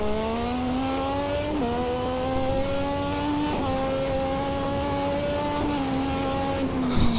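Lotus 98T turbocharged Formula 1 car in the Assetto Corsa racing game, its engine note climbing steadily through the gears as it accelerates hard, with brief dips at each upshift, loud and close throughout.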